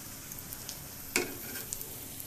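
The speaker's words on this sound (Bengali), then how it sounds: "আমরা এইভাবে সুন্দর করে এই আলুনিগুলো ভেজে দিতে পারি" Potato fritters (aluni) in a batter of gram or rice flour fry in hot oil with a soft continuous hiss, a few light pops and one louder crackle midway.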